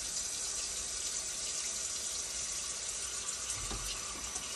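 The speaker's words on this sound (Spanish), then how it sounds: "yo voy a buscar el vinagre y le voy a echar." Vinegar is poured onto raw chicken feet for a chicken feet soup, a steady close hiss of running liquid that continues without a break and stays fairly quiet.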